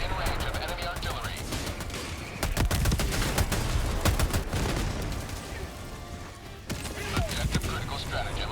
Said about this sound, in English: Warning, you are in range of enemy artillery.